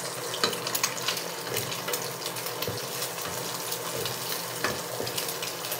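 Eggs sautéing in a frying pan for a Pampanga-style tapsilog breakfast, a steady sizzle running throughout with scattered scraping and stirring knocks and faint water-like hiss, close and moderately loud.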